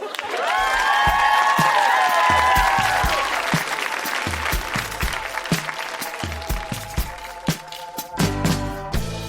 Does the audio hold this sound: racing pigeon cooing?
no